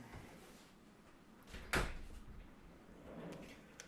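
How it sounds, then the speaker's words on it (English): A door closes indoors with a single sharp thud, fairly near, set against quiet room noise; no talking. "close this door"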